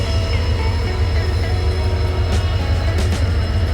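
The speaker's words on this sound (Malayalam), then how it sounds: "ഇതൊരു ഗൂഡ്സ് വണ്ടിയാണ്. ഗൂഡ്സ് വണ്ടി കൂടെ ഇങ്ങനെ വന്ന് നിൽക്കുന്നുണ്ട്." A goods train at a railway station in Kozhikode, Kerala, giving a continuous low rumble of heavy rolling wagons with a few high squeals and clanks near the end and no talk.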